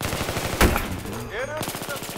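Automatic gunfire in the video game Battlefield 3 rattles in a fast, steady burst, with one louder crack standing out in the middle, while someone speaks briefly over the shooting.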